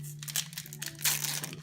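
A Pokemon card booster pack wrapper from a Lucario GX box crinkles and crackles while being handled, in a short, close burst over a low steady hum, with no talking.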